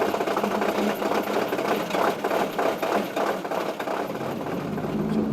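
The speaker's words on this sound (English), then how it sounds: "Garth, I've seen two drivers stare really hard at this fire truck and you driving it." A fire truck engine idles and runs with a steady mechanical clatter, a mid-pitched rhythmic chug heard close and continuous without any talking.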